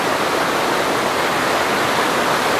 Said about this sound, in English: And there's just waterfalls everywhere.